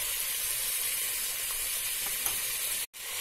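Tomatoes go into vegetables frying for veg biryani, giving a steady close hiss and sizzle of hot oil with faint stirring scrapes, cutting off abruptly near the end.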